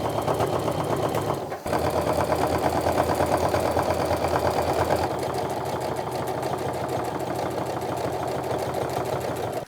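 A sewing machine stitching a tote bag, running in a loud continuous rapid whir that pauses briefly then resumes at a steady speed, heard close with no talking.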